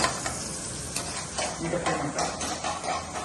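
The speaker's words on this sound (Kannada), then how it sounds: "ನೀಟಾಗಿ ಫ್ರೈ ಮಾಡ್ಕೊಳ್ಳೋಣ" Chicken frying in oil in a small cooker pan for green chilly chicken, a dense close sizzle with rhythmic scraping strokes of the spoon, a voice faintly present underneath.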